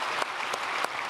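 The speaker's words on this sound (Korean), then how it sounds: "박수로 축복하겠습니다." A church congregation applauds at a worship service, dense steady clapping from a large crowd with a few sharper claps standing out, filling the whole short stretch.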